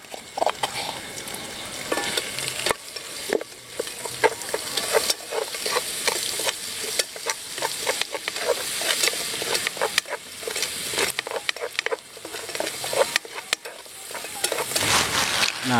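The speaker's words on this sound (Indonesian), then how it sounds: "untuk bumbu-bumbu nih yang sudah kita tumbuk tadi langsung kita goreng dulu terlebih dahulu" Pounded spice paste fries in hot oil for a spicy yellow coconut-milk snail dish, a steady loud sizzle broken by frequent scraping stirs in the pan, close and with no talking.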